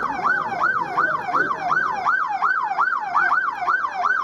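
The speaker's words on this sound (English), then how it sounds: "you see and hear sirens and lights" A wailing emergency siren rises and falls in a steady, fast repeating cycle, loud and close, with faint road and engine rumble beneath it during the opening seconds.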